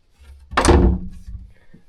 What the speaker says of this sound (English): Door shuts here for privacy.